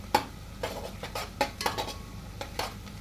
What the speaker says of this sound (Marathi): कांदा एकदम आपल्याला ब्राऊन होऊसपर्यंत भाजायचा आहे